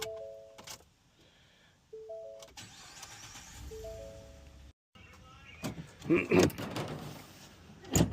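A car's engine is started after some thumps and door-like clunks, turning over and catching into a rough idle that grows louder toward the end, with muffled activity around the vehicle.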